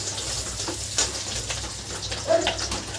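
Spices frying in a pan as the base for a Sundarbans crab curry: a soft, continuous crackle and sizzle with faint scrapes and small pops, heard close but at low level throughout.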